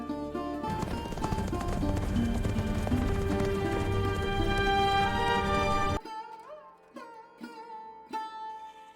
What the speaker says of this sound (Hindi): वीर सिंह अपने प्रिय मित्र जय सिंह के साथ घोड़े पर सवार होकर निकल पड़े।